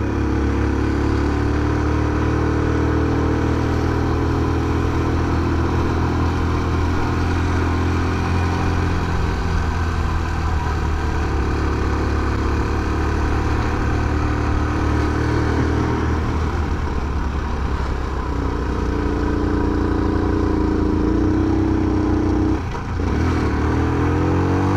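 A Honda Super Cub motorcycle climbs uphill on a mountain road on Mt. Akagi in Gunma, Japan, its small engine droning loud and steady throughout, with slight shifts in pitch as it labours.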